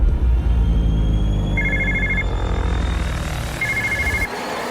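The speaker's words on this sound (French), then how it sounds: "Le téléphone sonne, personne ne répond au téléphone." A telephone rings twice with short electronic trills, set over a low droning background that fades toward the end; no one answers.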